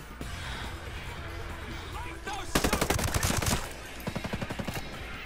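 Gunfire in the tactical shooter game Ghost Recon Breakpoint: a sustained automatic burst with rapid even shots, then a second shorter burst, mid-distance over a steady game background and player talk.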